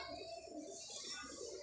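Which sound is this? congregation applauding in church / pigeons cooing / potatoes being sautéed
pigeons cooing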